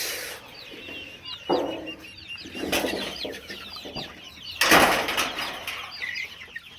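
One- to two-month-old chicks on a poultry farm cluck and peep softly throughout, with a few louder bursts of wing flapping and rustling nearby.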